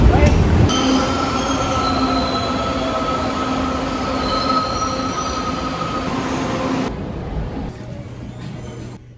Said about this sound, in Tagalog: LRT station sa Antipolo.